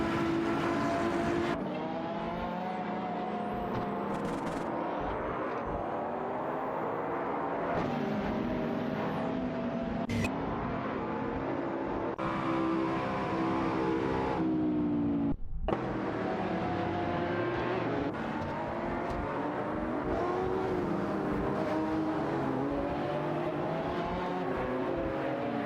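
Engines of a Jaguar F-Type Project 7 and a Ferrari Portofino roar loudly through a video game race, with continuous high revving, gear shifts and rising and falling pitch, no talking.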